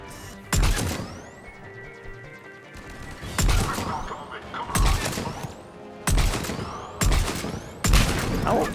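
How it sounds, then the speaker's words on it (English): Bursts of weapon fire in Mass Effect 3 multiplayer, six or seven loud, sharp volleys spaced about a second apart, with quieter game noise between them. "How did all of those shots just miss?"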